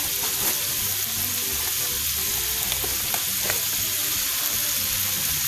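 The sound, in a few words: water boiling in cooking pot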